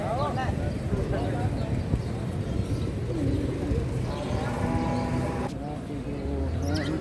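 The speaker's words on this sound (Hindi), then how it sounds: "इस तरफ भी कुछ पशु, पंछियाँ, पक्षी देख सकते हैं आप।" Pigeons or doves coo amid other birds and animals at a large cow hospital in Nagaur, Rajasthan, a steady outdoor chorus of birdsong running under continuous nearby talk.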